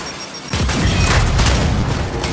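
A frag grenade explodes in the video game Gears 5, a loud sudden boom that rolls into a sustained rumbling blast lasting a couple of seconds.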